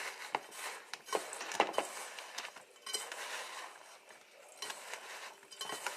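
Graham cracker crumbs, sugar and butter are stirred together in a bowl for a pie crust, giving close, quiet scraping and light clinks of a utensil against the dish, with no talking.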